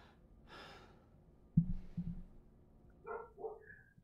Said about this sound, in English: I gotta see what my dog's yelling about.